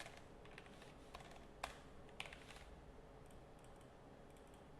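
Typing on a computer keyboard, a steady patter of faint key clicks with a couple of sharper taps, low and quiet under a dull background hum.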